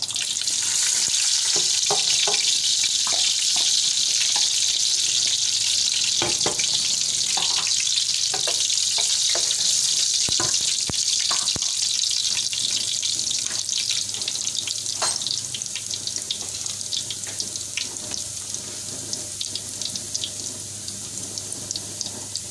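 Chopped garlic stir-fried for fried rice, a steady loud sizzle with scraping and stirring clatter from a spatula in the pan, close up, with no voices.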